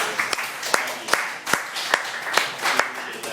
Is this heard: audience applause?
yes